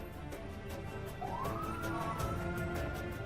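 A police siren rises and wails in the distance over a steady background of traffic and rhythmic rumbling, heard faintly but clearly, in Egypt.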